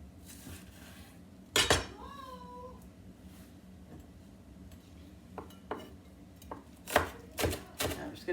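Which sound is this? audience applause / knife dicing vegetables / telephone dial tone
knife dicing vegetables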